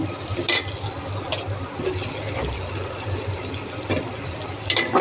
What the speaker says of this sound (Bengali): পরিমাণ মতো পানি দিয়ে দিচ্ছি কষানোর জন্য।